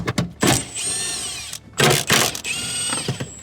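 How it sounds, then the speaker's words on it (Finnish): An impact wrench spins out 8 mm headlight bolts on a BMW E36, loud and close, in three whirring bursts with whining motor tones and short breaks between them. "Ja täältä sitten vain 8 millisellä skruuvaillaan valot pois ja totta kai käytetään pulttikonetta."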